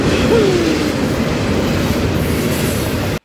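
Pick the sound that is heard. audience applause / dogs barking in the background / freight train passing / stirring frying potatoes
freight train passing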